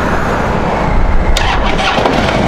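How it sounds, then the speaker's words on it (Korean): A motorcycle engine cranking but failing to start, a loud continuous whirring grind up close with a brief squeal partway through and no speech. "오, 이거 시동이 안 걸리네 갑자기"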